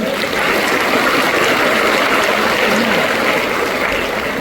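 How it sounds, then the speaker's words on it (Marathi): Crowd applause welcoming government leaders at a public event, a steady, loud wash of clapping from many hands, sustained evenly from start to finish. "आपण सर्वांनी कडकडीत टाळ्या बाजू स्वागत करा"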